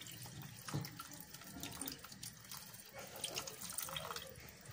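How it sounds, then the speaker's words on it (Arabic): Water running from a tap into a cooking pot for red pumpkin soup, a steady broadband splashing stream at moderate level throughout, with no talk over it. "انا غادي نضيف الماء."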